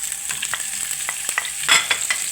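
Peppers fry in olive oil in a pan with a close sizzle, broken by repeated sharp scrapes and taps of a utensil stirring against the pan.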